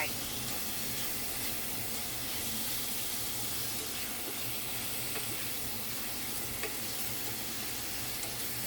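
Spicy chicken offal and liver stir-fry with holy basil in a hot pan, a continuous loud sizzle and hiss with utensil stirring, with occasional faint speech underneath.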